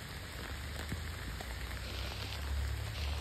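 Rain falls steadily outdoors in the Konkan countryside, a continuous even hiss of drops, fairly loud and constant with a low rumble underneath and no talk.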